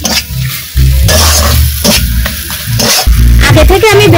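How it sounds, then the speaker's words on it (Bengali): Banana flower filling being stirred in a hot pan, a loud steady sizzle of frying with scraping spoon movements throughout, no voices. "একটু ভালো করে নাড়াচাড়া করে নেব।"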